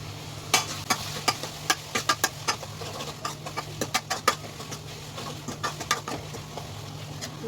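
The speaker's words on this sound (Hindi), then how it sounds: "अब हम मसाले मिक्स करेंगे" Spices being stirred into nutri bhurji in a pan: a spoon scrapes and taps against the metal in an irregular series of sharp clicks over a low, steady sizzle, close and moderately loud.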